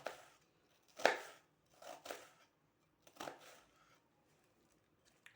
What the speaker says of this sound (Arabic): ها البصله تاعنا قطعوها هاك شرائح